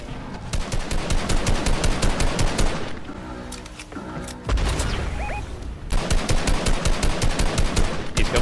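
Rapid automatic gunfire from the Fortnite video game rattles in fast repeating bursts, loud and close, broken by a shorter pause with scattered shots and effects before the rapid fire resumes.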